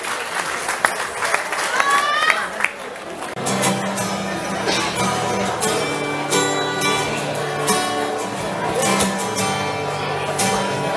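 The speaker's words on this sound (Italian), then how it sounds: "Un applauso a Massimo." An audience claps for a performer at a singing event, a burst of applause that fades as music with a sustained tone comes in under the clapping.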